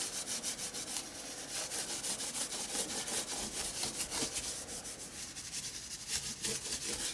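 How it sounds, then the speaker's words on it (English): Paint is rubbed and blended across a mixed media art journal page with a tool, producing a rhythmic, close, dry scrubbing of repeated strokes, steady and unaccompanied. "Lightly rub."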